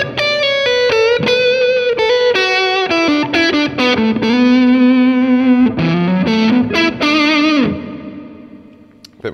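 Fuzzed-out electric guitar on a Stratocaster neck pickup, playing a lead melody, thick and saturated with a warm, smooth tone, sustaining notes before fading at the end.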